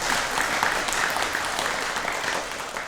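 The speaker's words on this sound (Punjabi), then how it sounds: "ਜ਼ੋਰਦਾਰ ਤਾੜੀਆਂ ਦੇ ਨਾਲ ਇਹਨਾਂ ਦਾ ਸਵਾਗਤ ਹੈ" A studio audience applauds steadily to welcome a guest, retired BSF Brigadier Pawan Bajaj, on a talk show. The dense, even clapping fills the whole moment and tapers slightly at the end.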